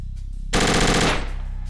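Loud automatic gunfire in the tactical shooter game Project Reality, a burst of rapid shots lasting about half a second that rings out and tails off into an echoing decay.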